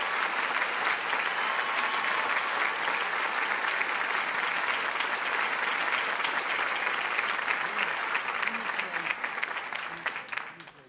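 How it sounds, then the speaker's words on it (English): Sustained applause from a large audience at a hockey hall of fame induction event, honoring a national champion hockey team; dense steady clapping throughout, fading toward the end. "a round of applause, please, for the national champion,"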